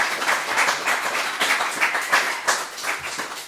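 A room full of people applauds steadily at a community gathering, dense clapping holding an even level throughout with slight swells, close and without talk over it.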